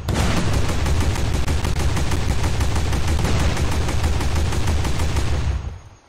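In a WW2 eastern front mod of a war video game, a tank's front cannon fires as a loud, continuous burst of rapid shots lasting several seconds, then stops abruptly.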